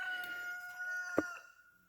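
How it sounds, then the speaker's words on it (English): A single rooster crows in a sustained, tonal call, fairly clear and unaccompanied, ending with a brief sharp sound near the close. "You're going to have to ignore my rooster."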